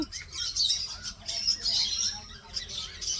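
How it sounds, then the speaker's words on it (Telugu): Several kinds of caged parrots chirp and squawk in quick overlapping bursts, fairly faint and at some distance, with no clear talking. "ఇంకా చిలకలు, రకరకాల చిలకలు అన్నిట్లో కేజెస్లో ఉన్నాయి"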